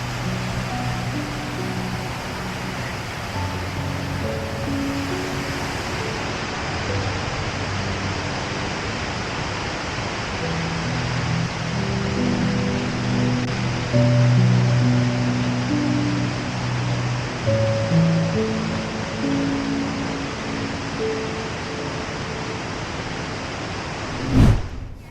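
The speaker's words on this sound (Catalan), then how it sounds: "La cascada de Ratera." Ratera waterfall in the Pyrenees pours in a steady, broad roar that fills the whole scene, constant and close, with faint murmured voices beneath it and a brief loud knock near the end.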